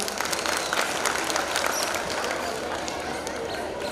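A live audience at a poetry gathering (kavi sammelan) in Mumbai applauds steadily, a dense, loud wash of many hands clapping throughout with a faint voice underneath.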